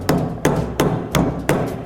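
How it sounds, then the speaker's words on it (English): A hammer taps a red plastic hubcap onto the wheel of a Radio Flyer all-terrain cargo wagon, five evenly spaced, sharp, close strikes at a steady rhythm. "take your red hubcaps, and using your hammer very carefully tap until it is fully down"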